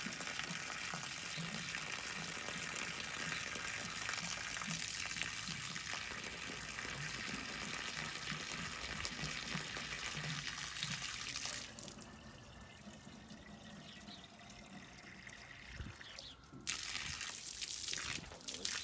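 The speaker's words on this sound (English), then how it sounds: "radiator flush to get rid of all the rusty stuff" Water rushing steadily through the radiator of a Frandee Sno Shu Model E snowcat during a rust-clearing flush. A close, continuous gush drops quieter partway through, then surges loud again near the end.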